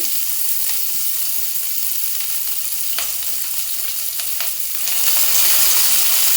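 Onions frying in hot oil with mustard seeds already tempered, a bright continuous sizzle with a few sharp pops and crackles, steady throughout and swelling a little louder near the end, no talking.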